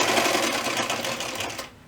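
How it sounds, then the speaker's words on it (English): A sewing machine runs steadily as it topstitches around the edge of a fabric bookmark, a fast, even whirring buzz heard up close that stops abruptly near the end, no talking. "I'm gonna top stitch all the way around my bookmark just to close off that and just to give it a nice finished look"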